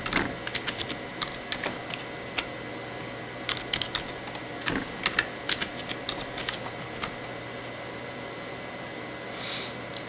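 Someone types on a computer keyboard, sending a steady patter of light clicks and taps over a constant background hum.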